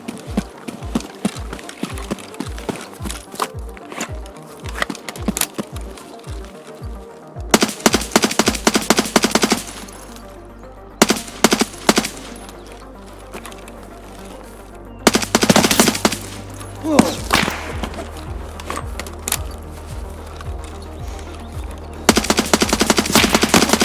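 Gunfire from several shooters in Escape from Tarkov, rapid automatic bursts up close, then loud clustered volleys with pauses between them over a low droning background.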